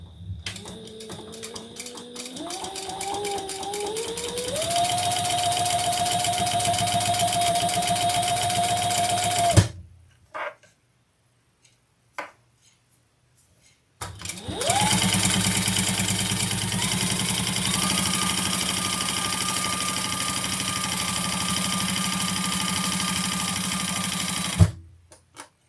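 A Sailrite sewing machine stitches with a seam guide, running steadily for about ten seconds with rising motor speed, pausing, then sewing again in a long continuous burst, loud and close with no talk.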